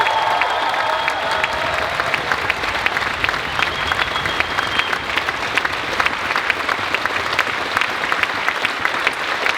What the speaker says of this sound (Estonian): Ja palun suurim aplaus meie tänastele esinejatele veel kord.